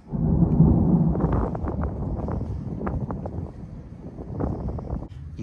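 Deep thunder rumbles loudly and rolls on for several seconds, with crackling low booms and some wind buffeting the microphone.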